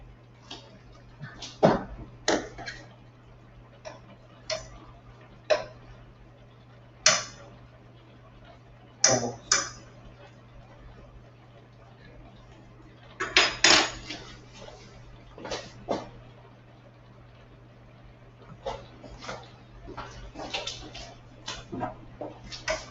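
Spoon stirring a turnip stew in a pot, making sporadic sharp clinks and scrapes against the metal at irregular intervals, close by, with quiet gaps between.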